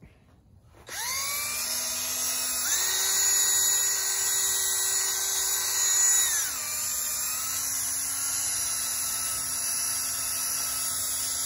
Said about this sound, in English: I'm gonna just rub it on there first and then go back and buff it.